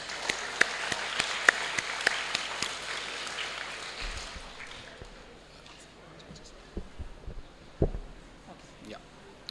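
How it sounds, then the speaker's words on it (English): Applause from an audience at an agricultural innovation conference: scattered individual claps that thin out and fade over several seconds, with a few louder, closer claps near the end. "Can we start with claps for them?"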